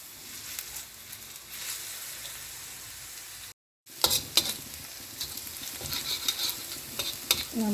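Ingredients for Kerang Kam Heong, a spicy clam dish, sauté in a pan with steady scraping stirs. A brief silent gap falls midway, then louder stirring and sizzle resume and continue to the end.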